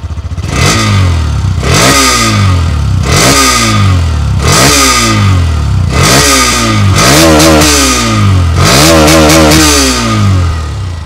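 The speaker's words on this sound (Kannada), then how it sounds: "ಗಾಡಿದು ಎಕ್ಸಾಸ್ಟ್ ನೋಟ್ ಹೇಗಿದೆ ಏನು ಅಂತೆಲ್ಲ ನೀವು ಕೇಳೋದಾದರೆ," A Hero Xtreme 125R motorcycle revs repeatedly, roughly eight throttle blips that rise and fall in pitch, loud and close, ending with quicker back-to-back revs and no talking.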